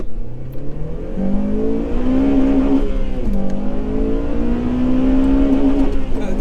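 Honda Civic Type R car accelerating hard on a road, engine note climbing through the revs in repeated pulls between gear changes, loud from inside the cabin with tire and road noise underneath.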